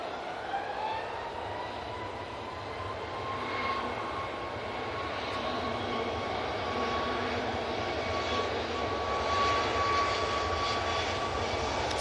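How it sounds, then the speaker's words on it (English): An Embraer E175 airliner inbound from Amsterdam Schiphol lands at Manchester Airport, its steady jet roar with a faint whining engine tone building gradually and holding at moderate distance, no voices. "So it's the E175 coming in from Amsterdam Schiphol."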